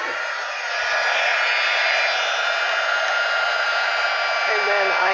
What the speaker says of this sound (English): And then I can just hit this with the heat tool. And it's going to melt that embossing powder